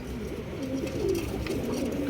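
Pigeons at a breeder's farm coo in low, throaty rolling calls at close range, a continuous murmuring chorus with no talking over it.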